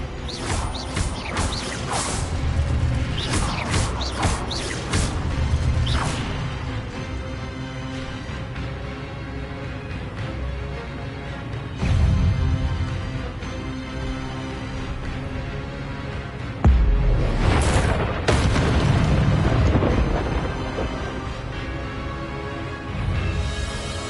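Spell effects in a Hogwarts video game: repeated whooshing, crackling bursts with impacts over a steady game music bed, with loud flurries near the start and again past the middle.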